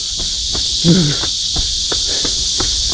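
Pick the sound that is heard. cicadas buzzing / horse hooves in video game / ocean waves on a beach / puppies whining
cicadas buzzing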